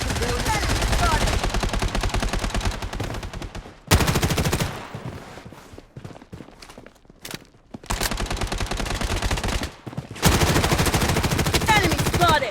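Automatic gunfire and machine-gun bursts in the shooter video game Blood Strike, loud and close, coming in dense rapid volleys broken by short lulls, with in-game voice callouts in the mix.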